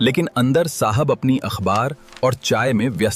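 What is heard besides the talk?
No distinct noise like a dog, phone or traffic.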